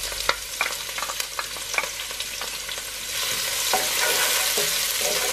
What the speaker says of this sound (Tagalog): igisa natin yung garlic. Isunod agad natin yung ginger.